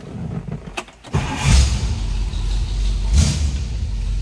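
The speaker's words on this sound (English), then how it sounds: "Let's go ahead and fire this up so you can hear it run." A 1964 Ford Thunderbird engine cranks briefly and catches, then settles into a loud, steady idle close by, with a couple of revs swelling the rumble.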